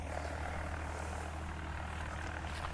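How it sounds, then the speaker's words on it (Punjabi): A new tractor pulling a super seeder while sowing wheat on raised beds, with a loud, steady engine drone and low rumble close by, unbroken throughout and without talk. "ਦੇਖੋ ਵੀ ਨਵਾਂ ਟਰੈਕਟਰ ਆਗਾ ਬਈ ਨਵਾਂ ਸੁਪਰ ਸੀਡਰ ਆ"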